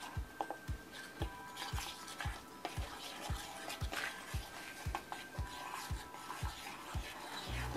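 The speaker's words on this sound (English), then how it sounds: "Keep mixing it up till it gets nice and thick" Pancake batter for mini pancakes being whisked until thick in a bowl, a steady rhythmic scraping and tapping of the utensil repeating about twice a second, close and fairly quiet.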